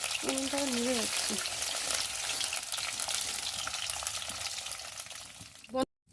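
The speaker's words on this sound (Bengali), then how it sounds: "এই মাছগুলো ভেজে তুলে রেখেছি।" Fish pieces coated in turmeric frying in hot oil in a karai wok, a steady broad sizzle running loud and continuous, with a brief voice at the start and a short cut to silence near the end.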